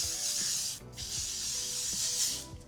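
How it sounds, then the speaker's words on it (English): L'Oreal Infallible 3-Second Mist setting spray misted onto a face in continuous hissing bursts with a short break between them, close and steady, with no talking. "the L'Oreal Infallible 3-Second Mist. This is like the transfer proof setting spray that I like."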